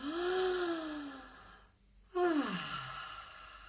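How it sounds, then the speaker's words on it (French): A single deep breath drawn in through the mouth during a guided meditation, then released as a long audible sigh, close and alone with no talking. "Alors je vous invite là tout de suite à prendre une grande respiration par la bouche."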